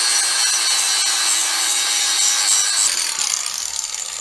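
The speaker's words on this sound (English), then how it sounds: "Probably only looked like 3 seconds of grinding, but that was a lot of grinding" Grinder cutting cooling fins off a pit bike engine, a loud, steady, harsh grinding rasp held continuously before easing off slightly near the end.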